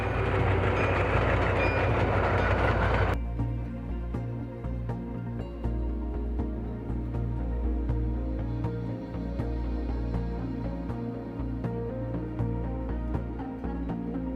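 The Andean Explorer train rumbles along steadily between Cusco and Puno over the Andean Plateau above 4,000 meters, with a low, continuous rolling drone and faint rhythmic clacks; the loud first seconds settle into a steadier, quieter interior hum.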